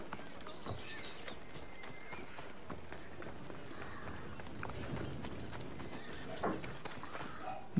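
A horse galloping in the video game Assassin's Creed Odyssey, a steady run of muffled hoofbeats under game ambience, with a brief louder accent near the end.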